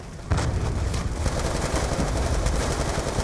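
Rapid automatic gunfire from the video game Call of Duty: Black Ops 2, a loud, dense burst of shots that starts abruptly and continues with booming impacts throughout.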